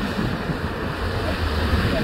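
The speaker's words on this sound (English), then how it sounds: "all this wind blowing is interesting" Wind blows steadily along a windy shoreline with waves washing in, a continuous broadband rush at moderate level with no distinct breaks.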